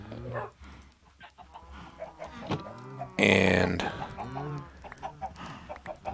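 Chickens clucking in Minecraft, several close, repeated clucks and squawks in an uneven rhythm, with a brief spoken word nearby.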